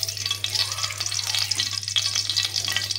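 Spoonful of ghee sizzling in hot oil in a pan while making palak paneer, a steady bright crackle close up with faint scraping, no voices.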